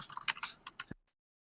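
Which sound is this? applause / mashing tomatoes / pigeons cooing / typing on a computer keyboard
typing on a computer keyboard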